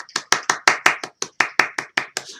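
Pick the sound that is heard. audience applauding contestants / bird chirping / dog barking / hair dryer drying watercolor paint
audience applauding contestants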